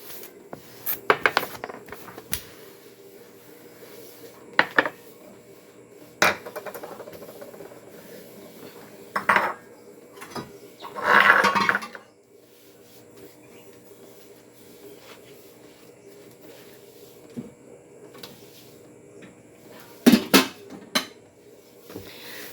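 Dishes, plates and pans are washed by hand in a home kitchen, making scattered clinks, scrapes and a brief rattling clatter between quiet stretches, close and sharp, with no one talking.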